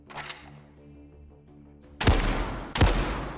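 Automatic WW2 weapon fired in the VR shooter Zero Caliber: Reloaded, two loud, sharp bursts of gunfire close up, each with a ringing tail, after a quieter stretch of low tonal game music.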